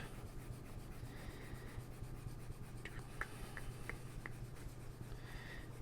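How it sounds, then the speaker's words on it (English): An eraser rubs across a drawn curve, giving a steady, close scrubbing with a few short sharp squeaks near the middle over a low constant hum. "All right, so we're gonna erase this Keeling Curve."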